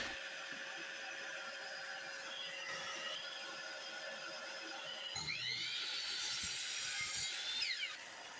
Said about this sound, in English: The Delta miter saw makes short work of them.